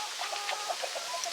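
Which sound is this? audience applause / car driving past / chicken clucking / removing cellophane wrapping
chicken clucking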